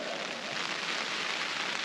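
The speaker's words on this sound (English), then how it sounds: "I'm gonna lay here and listen to the rain" Steady rain patters on a tarp over a hammock at a winter campsite, a dense, even hiss of drops heard from underneath, moderately quiet and unbroken, with no talking.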